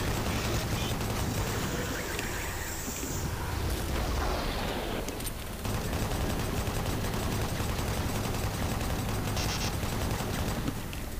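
Gunfire from the video game Doom 3 Resurrection of Evil, a loud, continuous barrage of shots and blasts filling the whole span, with a brief dip midway before the firing resumes at full intensity.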